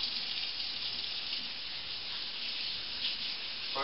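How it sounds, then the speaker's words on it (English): Running tap water gushes steadily over tomatillos being washed with dish soap in a sink, a constant close hiss of water with faint rubbing underneath. "feel free to use a little dish soap and wash them off."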